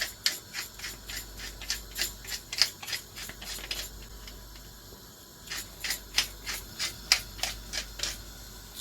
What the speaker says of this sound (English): And freshly ground black pepper.